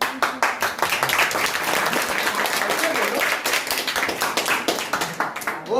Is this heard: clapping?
yes